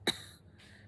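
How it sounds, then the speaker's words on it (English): A single short, sharp cough, quick and fairly faint, followed by a softer breathy tail, heard alone with no talking. "Coco coughed again."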